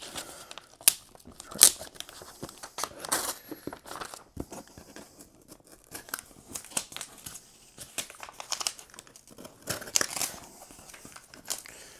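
Packing tape and wrapping crinkle and tear in steady, close rustling bursts, with a few sharper rips, while an SVS SB-1000 Pro subwoofer is unboxed.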